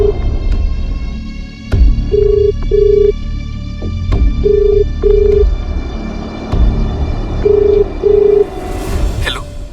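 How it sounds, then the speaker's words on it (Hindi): Telephone being dialed for a call in a crime drama scene: a steady dial-tone hum under a series of evenly spaced paired beeps and several sharp clicks, loud and close, with a brief hiss at the end. "एक बार मयूर को फोन कीजिए ना."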